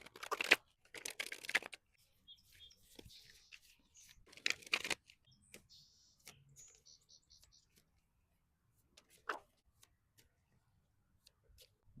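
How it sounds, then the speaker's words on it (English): A tarot card deck is shuffled in soft, papery bursts of riffling, two main flurries separated by quiet stretches of faint clicks and small handling ticks, close and intimate with no other noise. "Let's shuffle your deck and see what your person wants you to know about them."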